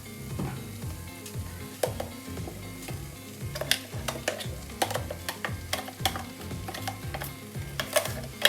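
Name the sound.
stirring paste into sauteed onions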